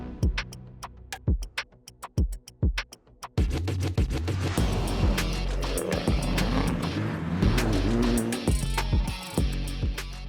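A Mitsubishi Evo 6 rally car in Tommy Mackinnon livery at a Queensland rally. It opens with a run of sharp, regular clicks and ticks, then a loud, sustained engine roar and road rush that carries steadily to the end.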